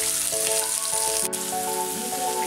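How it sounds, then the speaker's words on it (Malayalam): Onions tipped into hot oil where mustard seeds have already popped give a bright, continuous close sizzle, with steady sustained tones sounding beneath and no speech. "ഇനി നമുക്ക് എണ്ണയിലിട്ട് വഴറ്റാം."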